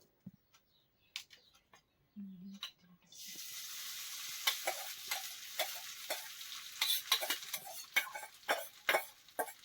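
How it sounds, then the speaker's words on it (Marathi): Leftover khichdi drops into hot oil and a steady sizzle starts, broken by clinks and scrapes of stirring, after a few quiet taps at the beginning. "थोडं वाढून देते मी आता गॅस आणि खिचडी फ्राय करते."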